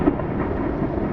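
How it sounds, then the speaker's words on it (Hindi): Thunder from a lightning strike: a dense, continuous low rumble with rain-like hiss, sustained and fairly loud for about a second with no voices. "एक पल में ही बादलों के बीच से एक मोटी खौफनाक काली बिजली कड़की"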